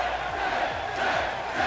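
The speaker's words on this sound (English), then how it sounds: "As the crowd continues to chant chin for Tye." Crowd noise from a WWE 2K18 wrestling arena, a dense, steady roar of many voices with a rhythmic chant rising and falling throughout, loud and continuous with no clear break.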